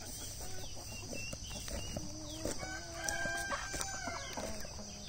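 Chickens cluck steadily while a rooster crows, a busy farmyard chorus at moderate distance over constant background noise, with no talk.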